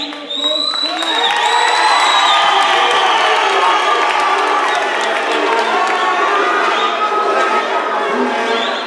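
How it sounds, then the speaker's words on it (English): An election debate studio audience breaks into loud cheering and applause for the panel, with whoops and shouts over sustained clapping that swells after the first second and holds strong to the end. "Can I ask the audience to give the panel a round of applause?"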